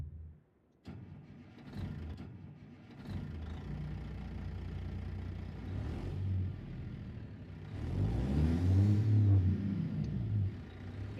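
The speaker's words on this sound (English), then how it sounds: "This is my regular engine that I always use." Heavy truck engine in American Truck Simulator, a rumbling low drone throughout that builds into a louder harmonic rev near the end, heard alone without talk.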